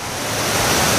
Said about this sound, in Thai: น้ำตกกวางสีที่หลวงพระบางครับ